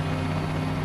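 Helicopter taking off during the Chernobyl disaster response, a brief, steady low droning engine and rotor hum, loud and close with no voices.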